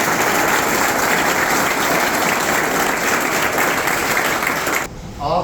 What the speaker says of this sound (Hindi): तो सर का जोरदार तालियों से